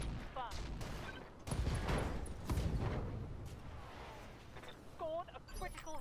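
AC2 autocannons fire in the Roguetech mech game, a dense run of sharp bursts and booms over rumbling battle noise, with voices talking throughout.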